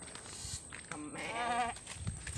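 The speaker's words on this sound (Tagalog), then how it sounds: "sumusunod yung kambing" A goat bleats once in a drawn-out, wavering call, close and fairly loud, with faint outdoor background noise around it.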